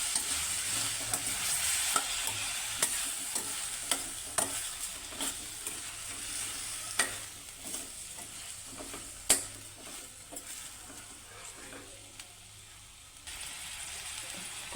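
Brinjal pieces being stirred into a frying curry in a pan, with repeated scraping spatula strokes over a low continuous sizzle, close and fairly quiet, no talking.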